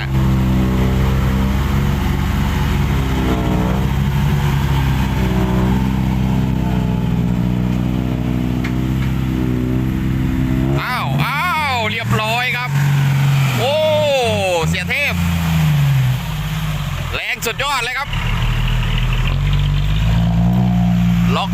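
A Hino truck stuck in deep mud in a field, its engine droning loudly and steadily, then revving in rising and falling surges, with people talking and shouting over it.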